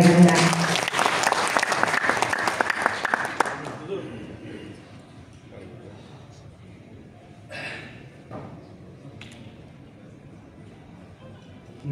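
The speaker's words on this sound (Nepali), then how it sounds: "सम्पूर्णले प्रमुख अतिथिज्यूको लागि जोरदार ताली बजाइदिनुहोला" Loud, dense applause for the chief guest at a third foundation day ceremony of a Nepali land and housing development federation, lasting about four seconds before fading to quiet room noise with faint rustles.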